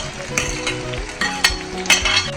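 Onions frying in hot oil in a pot, a loud, close, continuous sizzle with crackling bursts and the clatter of stirring.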